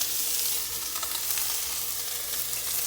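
Onions and cabbage sautéing in a hot pan, layered over bacon and Spam for a ramen dish, giving a loud, dense, unbroken sizzle and crackle, close up and heard alone.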